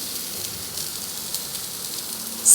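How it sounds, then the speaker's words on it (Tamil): Mustard seeds, urad dal and shallots sizzle in hot groundnut oil with a steady, soft hiss, near and even, with a sharper crackle at the very end. "கடுகு உளுந்து தாளித்து வருது"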